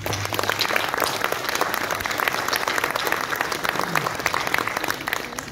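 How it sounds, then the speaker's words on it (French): Continuous, dense clapping from an audience honouring a guest at a French award gathering, steady and fairly loud throughout, with faint murmuring underneath. "On peut l'applaudir."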